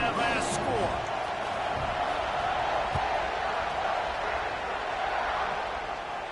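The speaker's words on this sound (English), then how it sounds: "this crowd is buzzing after that last score" A football stadium crowd buzzes as a steady, dense roar after a score, with faint thumps and a commentator's voice over the top.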